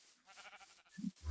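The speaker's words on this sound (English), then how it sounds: "That is a black sheep, though." Black sheep in the Minecraft video game gives a single short, faint bleat in a brief quiet moment, with soft game ambience around it.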